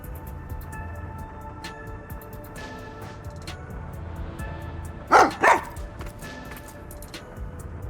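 A dog named Sugar in the game Master Detective Archives: Rain Code gives two quick, fairly loud barks over a quiet ambient background.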